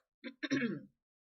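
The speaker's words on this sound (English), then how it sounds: "I'm sorry if I keep coughing" A single short throat clearing with a small cough, close and fairly quiet, lasting under a second against silence.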